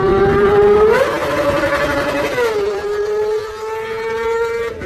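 A Kawasaki ZX-25R 250cc sports bike engine revs loudly and close up, its high-pitched wail climbing, holding, then dropping to a steady screaming drone, with no talk.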